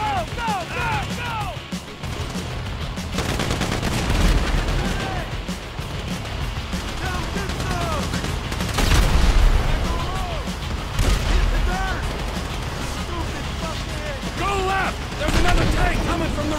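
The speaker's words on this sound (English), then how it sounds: "So I guess we're shooting our way out of here!" A chaotic shootout in Grand Theft Auto V on PC during a bank heist escape, with loud booming shots and crashes over shouting voices, several heavier blasts swelling in the middle and end.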